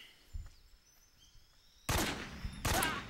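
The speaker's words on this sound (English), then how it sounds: "like nobody heard those gunshots" Gunfire in the Metal Gear Solid 3 video game: after quiet ambience with faint bird calls, two loud bursts of rapid shots ring out, the second following shortly after the first.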